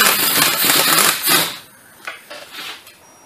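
A long chisel is hammered against stripped nuts during a clutch job on a 1993–2002 Mazda 626 2.0L. A loud burst of metallic striking and scraping comes first, then a few sharper, fainter knocks.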